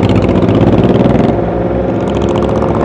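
A Suzuki GSX-S1000 motorcycle with its engine running, a loud close steady rumble with a regular throbbing pulse, holding an even note throughout.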